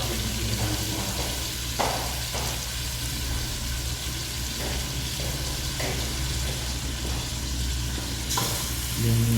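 Mung beans sizzle steadily in a hot pan over a fairly high flame, with a continuous frying hiss and occasional scraping stirs and light clinks, all close and without talk.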